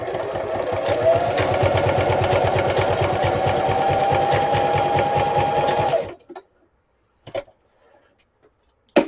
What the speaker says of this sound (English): I'm going to stitch those on, but I am going to use a zigzag to do that.